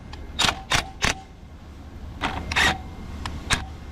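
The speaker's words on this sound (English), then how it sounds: "Let's see, get our socket on there." A socket wrench tightening bolts on a sawmill gives several short, sharp ratcheting bursts close by, in two groups with brief pauses between them.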